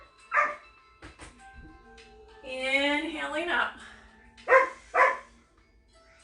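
A pet dog gives a few yips and a whining, whimpering cry during a home yoga session, fairly close, while an instructor talks calmly over and between the sounds.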